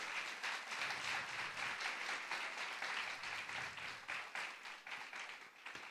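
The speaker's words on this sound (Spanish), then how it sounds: "Dale un aplauso grande al Señor" A congregation applauds in a church, a sustained, fairly distant and quiet wash of clapping that keeps going for several seconds and thins toward the end.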